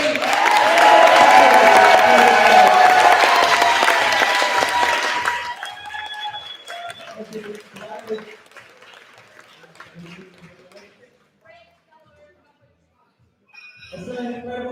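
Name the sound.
applause for Julie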